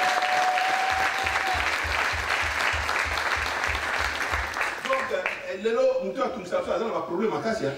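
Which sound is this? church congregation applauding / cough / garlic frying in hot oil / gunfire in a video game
church congregation applauding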